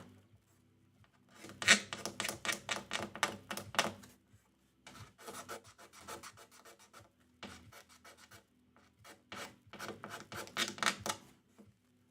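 Softened finish being scraped off a guitar on a repair bench, quiet rhythmic strokes in short clustered bursts with brief pauses, close and without talk.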